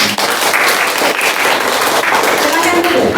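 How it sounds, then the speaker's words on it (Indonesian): Students clap together in a classroom, a dense, steady burst of applause filling the room from start to finish, with voices mixed in. "tepuk tangan untuk kita semua"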